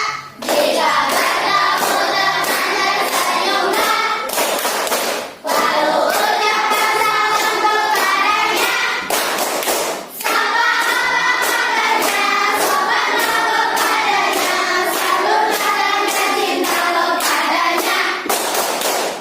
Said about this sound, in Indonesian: nyanyikan dulu lagu Tepuk 5S